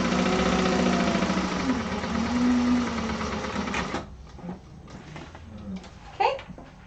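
A sewing machine stitches a second line within the seam allowance of a satchel lining, a steady loud mechanical whir for about four seconds, then stops, leaving softer handling noises and brief clatter.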